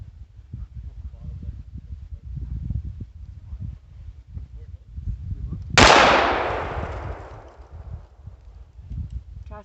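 A single sharp gunshot from a Taurus TX22 handgun cracks out mid-clip and rings away over several seconds outdoors, with family chatter and low rumbling background noise before and after.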